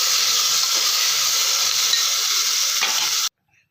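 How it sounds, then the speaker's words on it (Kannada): Chopped tomato with fried onions stirred in a hot pan during palak pulao cooking, giving a loud, steady sizzle and hiss with soft scraping strokes, close up, which cuts off abruptly near the end. "ಇವಾಗ ಕಟ್ ಮಾಡಿಕೊಂಡಿರುವ ಟೊಮೊಟೊ ಹಾಕ್ಕೊಳ್ಳೋಣ. ಚೆನ್ನಾಗಿ ಮಿಕ್ಸ್ ಮಾಡ್ಕೊಳ್ಳೋಣ."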